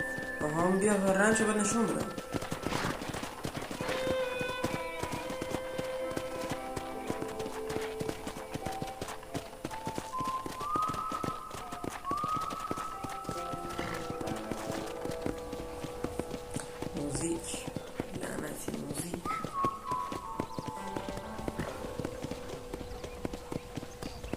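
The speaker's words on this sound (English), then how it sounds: "I picked out a fine horse for you." Horse hooves clip-clopping at a steady pace in a Red Dead Redemption ranch setting, a rhythmic patter running under game music and a voice talking throughout.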